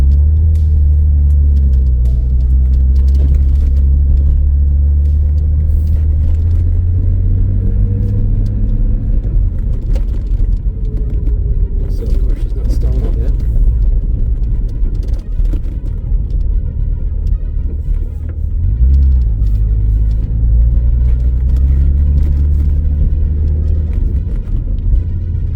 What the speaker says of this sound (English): She's idling pretty good actually, no issues at all.